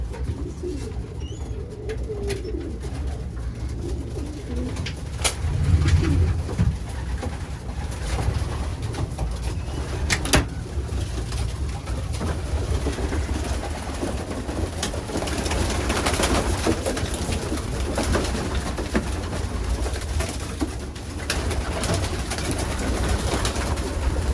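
Pigeons in a racing pigeon loft coo repeatedly in soft low throbbing calls, overlapping and fairly close against a steady background hum.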